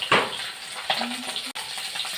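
A snakehead fish fries in a pan, giving a soft, steady sizzle broken by a few brief louder bursts, without any talking.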